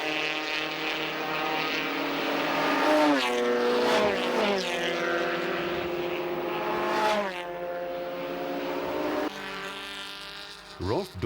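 Group N touring race cars circle the track, engines rising and falling in pitch as several pass close by one after another, loud and continuous with overlapping Doppler sweeps and a sharp drop as the field moves away.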